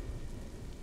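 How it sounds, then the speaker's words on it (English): A thunderstorm in the video game Observer: System Redux: a steady, dense wash of heavy rain with a low rumbling undertone, fairly quiet and continuous, with no voices. "that's a storm and a half"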